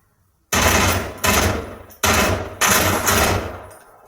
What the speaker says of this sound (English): Let's check by shooting the weapon